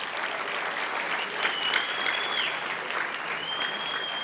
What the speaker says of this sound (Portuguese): Então, dá um aplauso aí para Jesus.